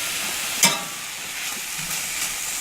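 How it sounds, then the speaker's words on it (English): Kielbasa, sauerkraut, sweet pepper and onion fry in a cast iron skillet at a cabin, giving a steady close sizzle with one brief scraping stir near the start. "Cooking a little kielbasa, sauerkraut, sweet pepper, and onion for supper. In the cast iron skillet."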